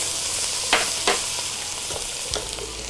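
Fresh coriander leaves drop into sizzling masala for Dindigul-style mutton biryani, a continuous frying hiss broken by a few sharp stirring clacks from the pan.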